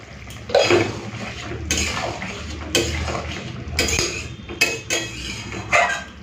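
Fish curry seasoned with sugar and salt gets stirred in a pot, with metal spoon clinks and scrapes against the vessel in irregular bursts over a soft background, close by and without speech.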